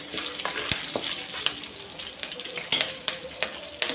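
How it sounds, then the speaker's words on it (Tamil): Green chillies frying in a pan for raw mango rice give a steady close sizzle, with frequent crackles and pops scattered throughout. "இப்போ நம்ம எடுத்து வச்சுருந்த பச்சை மிளகாயும் சேர்த்துக்கலாம்."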